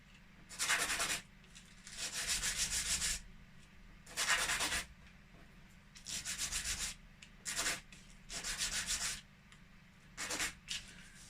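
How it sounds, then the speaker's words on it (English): Plastic G scale model building parts are scrubbed with sandpaper in a run of short, rasping strokes, some brief and some held for a second or two, close by and separated by quiet pauses. "Quick clean with the sandpaper."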